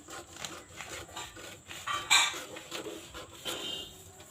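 Scissors snip through fabric while a katori blouse is cut out, giving a soft rasping cut with a few sharper snips in the middle, close and fairly quiet, with no talking.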